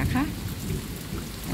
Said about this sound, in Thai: มีเสียงฟ้าด้วยนะคะ